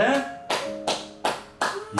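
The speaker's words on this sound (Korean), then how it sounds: "이야 대단했어 오늘 선생 박수 쳐줄게" Hands clap five times at an even, slightly slow pace, each clap sharp and close, with a voice faintly heard behind them.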